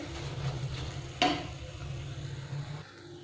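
Mawa (khoya) cooking in a pan for chocolate barfi while being stirred, with a low steady sizzle and soft scraping, one sharper knock of the utensil against the pan, quiet and close.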